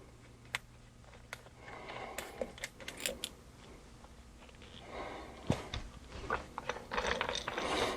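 Ratchet wrench clicking as it loosens a 15 mm jam nut on a Jeep XJ or TJ manual shifter during a rebuild, with a quick series of close, crisp pawl clicks, short pauses between strokes, and faster ratcheting near the end.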